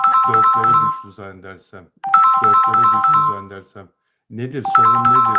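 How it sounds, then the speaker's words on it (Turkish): A mobile phone ringtone sounds in repeated tonal bursts, loud and close, while a person keeps talking over it. "Pardon, yine telefon geldi arkadaşlar."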